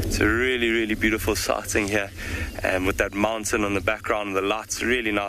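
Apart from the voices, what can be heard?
No distinct noise like a dog, phone or traffic.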